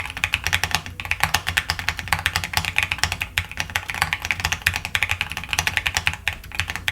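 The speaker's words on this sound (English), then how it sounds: "here's a little typing test to show you just how this one sounds" Steady, continuous typing on a vintage Apple-themed mechanical keyboard, with rapid clacky keystrokes close up and no talking for the full seven seconds.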